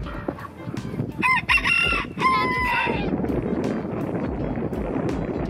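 A rooster crows outdoors in the snow, two loud strained calls from close by with wind buffeting the microphone and gusty background noise throughout.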